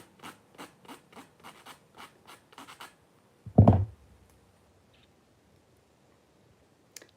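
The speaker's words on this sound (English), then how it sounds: "It's just very good to finish file your press on nails" Quick, regular scratchy strokes of a nail file rasping back and forth on press-on nails, followed by a single dull thump and then near silence.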